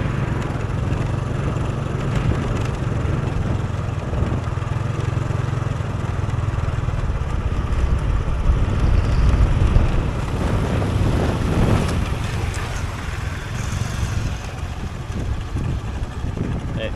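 A farm tractor hauling a full load of sugarcane rumbles steadily throughout, a continuous low engine drone mixed with wind buffeting the microphone outdoors.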